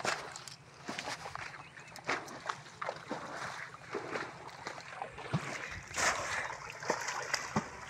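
Water splashes again and again as someone bails it out of a pond or ditch while fishing. The splashes are irregular and fairly close, over a steady outdoor background.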